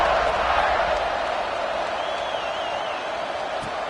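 Stadium crowd in an NCAA football video game roars steadily at a kickoff, a broad sustained wash of cheering with a faint whistle-like tone drifting through midway.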